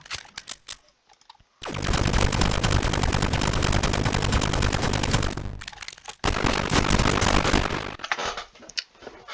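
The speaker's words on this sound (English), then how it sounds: "You could basically make a minigun like that." Rapid automatic gunfire from a Roblox FPS kit weapon set up like a minigun, loud, dense bursts lasting several seconds, broken by a short pause, then another sustained stream, with quieter clicks at the start and end.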